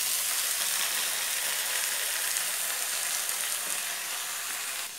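Kothimbir vadi batter of gram flour and coriander leaves sizzles loudly in a hot kadhai, a dense, continuous hiss and crackle of frying that fades slightly at the end, with no voices.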